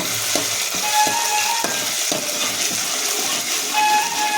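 Homemade ginger garlic paste fries in hot oil and is stirred, giving a steady, close sizzle with repeated scraping strokes of the spoon throughout.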